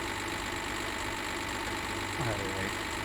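A tow truck engine in a driving simulator game idles with a low, steady, rumbling hum, with a slight shift in tone near the end.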